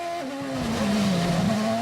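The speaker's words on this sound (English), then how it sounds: "When Alonso braked to avoid trouble" A Formula 1 car braking during a 2008 season race: a close, steady high engine whine drops in pitch as the car slows, heard alone.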